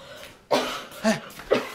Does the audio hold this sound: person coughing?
yes